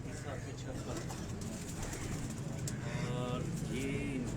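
Pigeons coo on a rooftop in Kasur, with soft repeated calls under steady outdoor background noise and some nearby voices.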